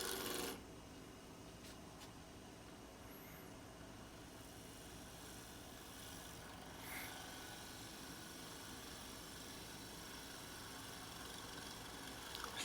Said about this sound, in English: Still using that 1/2-inch parting gouge, or excuse me, 1/2-inch bowl gouge.